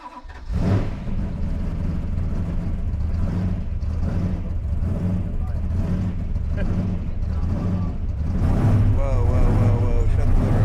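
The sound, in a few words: car engine running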